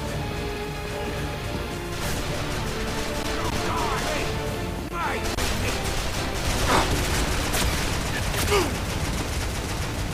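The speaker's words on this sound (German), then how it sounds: "Woher kommen noch die Schüsse?" Bursts of gunfire in the video game Bulletstorm crackle through a noisy mix, with scattered shots and short volleys over a steady background, while voices talk underneath in German.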